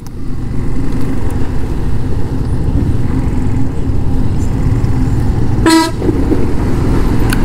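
A truck sounds its horn from behind a rental motorbike on the Kathmandu to Pokhara road, one short loud toot near the end over constant engine and wind roar.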